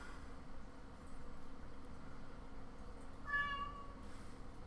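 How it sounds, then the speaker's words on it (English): A house cat gives one short, clear meow late in the clip, heard at moderate distance over a quiet indoor room hum. "The cats have been going stir-crazy since Tams has been away for... 4 days"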